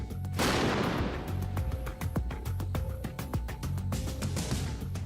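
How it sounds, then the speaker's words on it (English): A loud shaped-charge explosion against tank armor opens with a broad rushing roar, followed by a string of sharp cracking impacts and rumbling decay. "There was a huge release of energy in both those two explosions."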